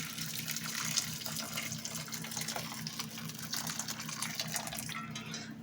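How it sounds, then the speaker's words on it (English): Steady stream of boiled water pouring from a kettle into a container, a continuous splashing trickle with a low background hum, running for several seconds. "So I've just boiled the kettle and pour this over."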